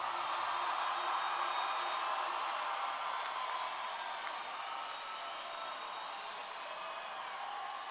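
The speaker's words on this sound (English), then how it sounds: "Ladies and gentlemen, one more round of applause for the class of 2023." Audience at a 2023 high school graduation ceremony applauding and cheering, a steady dense wash of clapping that holds at a moderate level throughout and eases slightly toward the end.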